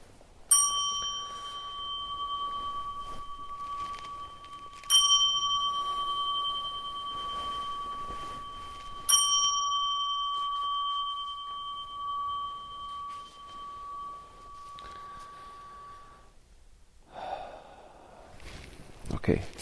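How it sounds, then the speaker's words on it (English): A meditation bell at a Zen Buddhist Sunday service, struck three times at even intervals about four seconds apart, each strike ringing out clear and sustained before fading slowly, followed by soft rustling and breathing. "3 bells, yeah."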